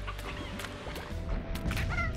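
Roosters dropped into a pen in the video game Slime Rancher give soft clucking calls over a low game background hum, faint and brief.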